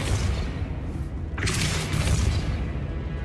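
The Depulso spell is cast in Hogwarts Legacy and lands as a deep boom with a sharp whooshing burst in the middle, set against a rumbling background.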